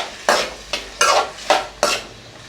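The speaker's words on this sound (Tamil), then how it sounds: "நம்ம கட் பண்ணி வச்சுருக்க தக்காளியை சேர்த்துக்க போகிறோம். தக்காளி நல்லா வதங்கணும்." Chopped tomatoes are stirred and sautéed in a hot pan for a spicy Tamil tomato chutney, with five rhythmic scraping strokes, each fading into a soft sizzle, close and clear with no talking.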